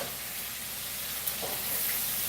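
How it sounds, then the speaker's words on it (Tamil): Tomatoes sauté in a kadai with a gentle, continuous sizzle and hiss, a faint tap of the pan near the middle, and no talking. "இது தக்காளி நல்லா வதங்கட்டும்"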